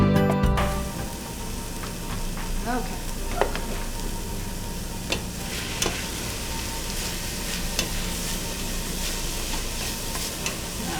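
Sweet potato sautéing in a pan for a sweet potato and edamame dish, a dense, steady sizzle after an initial clatter as it drops in, with scattered stirring ticks throughout.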